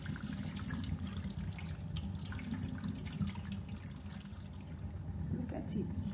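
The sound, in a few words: water poured off settled corn paste for akamu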